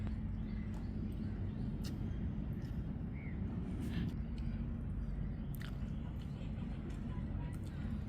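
Someone eating intestine curry with rice close up, soft chewing and squishy mouth sounds over a steady low background rumble, with faint incidental noises and no clear talk.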